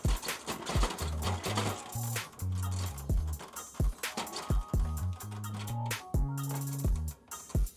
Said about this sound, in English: you want to give your printer a shake before you use it